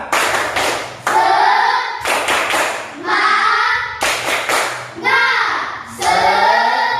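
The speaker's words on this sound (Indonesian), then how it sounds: "Tepuk semangat." A class of students claps in unison in a rhythmic cheer, sharp bursts of claps in repeated patterns about once per second, loud and close, with children's voices shouting along.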